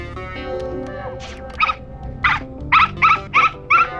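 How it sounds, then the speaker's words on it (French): A dog gives a series of sharp yelps and barks, about six in quick succession, over a low steady background hum. "Jim, ce chien-là, vous pouvez m'expliquer ce qu'il fait dans mon établissement?"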